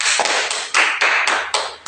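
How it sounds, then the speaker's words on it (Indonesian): Students in a classroom clap after a civics presentation, a close, loud series of sharp hand claps in a quick, slightly uneven rhythm, about eight in two seconds. "Mari kita berikan tepuk tangan."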